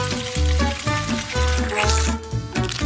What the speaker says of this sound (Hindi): अब सारे सॉसेस को अच्छे से बैटर में लपेटना है, फिर उन्हें खौलते तेल में डाल देना है।